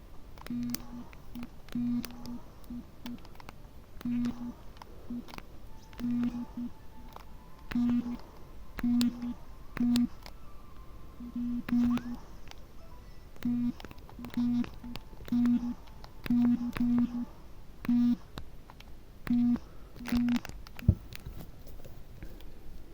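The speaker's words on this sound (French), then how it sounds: "Le téléphone sonne." A telephone rings in the video game Celeste, a repeated short electronic tone pattern pulsing steadily and faintly beneath soft, close whispered talk and small clicks.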